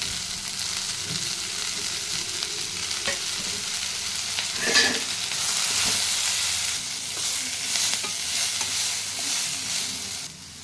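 Cumin, ginger and garlic roasting in a pan until golden brown while being stirred, a continuous near sizzle with soft scraping strokes and occasional louder swells, no talk.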